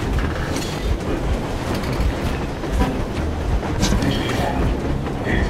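A steam train in the video game Metro Exodus rumbles along during an escape from Moscow, with a loud continuous roar and rattling wheel clatter that fills the soundscape.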